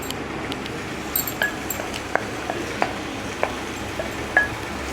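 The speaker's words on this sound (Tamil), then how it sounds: "மஷ்ரூம் ஆட் பண்ணி மீடியம் ஃப்ளேமில் கொஞ்சம் நேரம் மஷ்ரூம் நல்லா இந்த பச்சை வாசனையெல்லாம் போகிற வரைக்கும் நம்ம வதக்கிக்கலாம்" Marinated mushrooms sautéing on medium flame in a pan, a soft steady sizzle with several sharp clinks of a stirring spoon against the pan scattered throughout.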